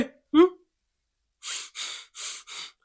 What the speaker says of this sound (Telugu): గాలి పీల్చుకునే సౌండ్ వచ్చింది.